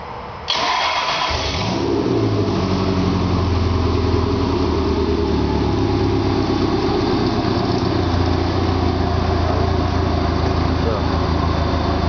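Rotorway Scorpion helicopter with a Subaru engine cranks briefly, then catches and runs steadily with a loud, continuous mid-pitched drone, close by.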